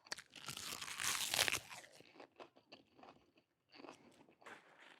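Crisp, juicy crunching as someone bites into and chews the fresh heart of an organically grown napa cabbage, a loud burst of crunches followed by several smaller chewing crunches and a short pause.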